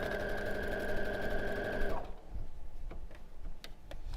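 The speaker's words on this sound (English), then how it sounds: "then we can sew our final seam" A sewing machine stitches the final seam of a quilt with a rapid, steady mechanical whir for about two seconds, then stops, leaving faint ticks and handling clicks.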